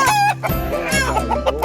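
An upset backyard chicken in New Zealand clucks loudly and close by, a short burst of agitated calls.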